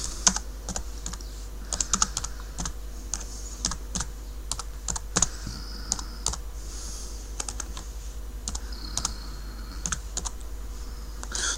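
Typing on a computer keyboard while entering answers into a quiz, with rapid close-up key clicks in irregular bursts throughout and no talking.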